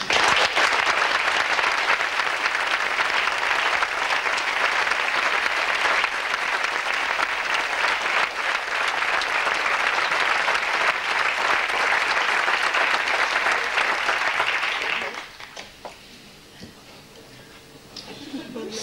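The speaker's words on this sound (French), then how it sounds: "je voudrais qu'on les applaudisse" An audience gives long, loud, dense applause for a company's team at a tenth-anniversary event. The clapping holds steady for about fifteen seconds, then drops away abruptly to a quieter room with some voices.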